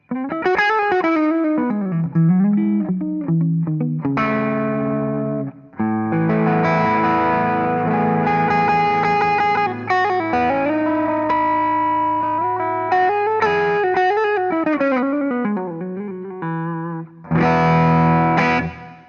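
A distorted electric guitar plays chords and bending riffs through a JAM Pedals Rattler MKII overdrive pedal, with a gritty, crunchy edge, loud and close, with short breaks between phrases.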